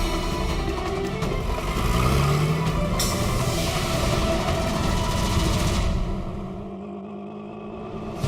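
Auto rickshaw driving fast through city traffic, its small engine droning steadily close by with a rise in revs midway and passing vehicles around it, easing off toward the end.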